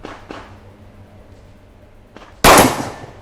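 A single sharp, loud pistol shot from a Glock 17 FR French Army handgun cracks at an outdoor firing range, following a stretch of quiet with faint clicks.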